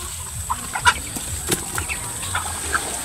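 Domestic ducks in a farm flock give scattered short quacks and calls against a steady background hiss, with the loudest call just before the first second and softer ones spread across the rest.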